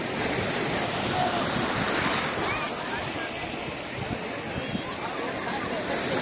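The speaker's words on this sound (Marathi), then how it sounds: "मला समुद्र खूप आवडतो." Sea waves breaking on the beach at Ganpatipule make a continuous broadband surf roar, steady and fairly loud, with wind buffeting the microphone.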